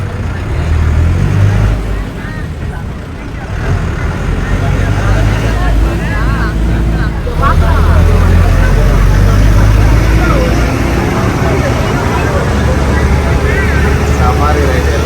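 A safari vehicle rumbles steadily through Bannerghatta zoo in Bangalore, its loud, close engine drone and road noise running throughout while passengers talk over it.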